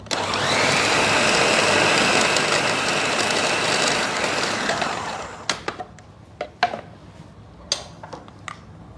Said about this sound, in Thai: ถ้าใครชอบแบบ เนื้อนิ่เนียนปั่นถั่วก่อนนานๆก่อนที่จะใส่พวกของเปียกเนาะ